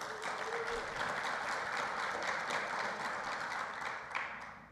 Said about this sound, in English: let's get a big round of applause for our Board of Trustees